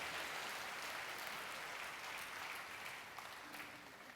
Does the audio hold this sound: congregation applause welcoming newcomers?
yes